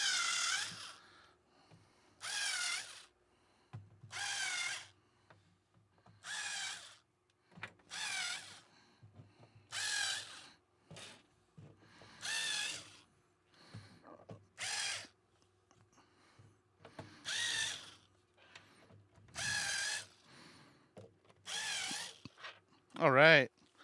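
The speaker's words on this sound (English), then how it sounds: "I'm going to slightly countersink them." Drill countersinking holes in a frame base: a series of about a dozen short, separate whirring bursts of a second or so each, evenly spaced with quiet gaps, close and moderately loud.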